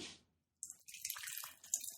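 Peach cobbler style beer, meant to taste like a peach pie a la mode, poured into a glass, heard up close as a steady splashing, fizzing stream lasting over a second after a brief opening splash.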